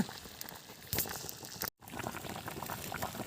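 A pot of liquid boiling for a village-style chicken party, heard up close as a dense bubbling rumble with a brief louder surge and a split-second dropout.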